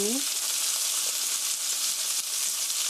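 Chicken pieces pan-frying for braised chicken give off a steady, dense sizzle and crackle close up, continuous and even throughout with no pauses and no voices.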